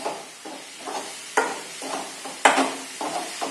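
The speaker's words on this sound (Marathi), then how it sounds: "आणि पूर्णपणे एकजीव करूयात आपण." Coconut and jaggery filling stirred in a pan, a spoon scraping in repeated strokes about every half second with a couple of sharper knocks against the metal, faint sizzling underneath, no talk.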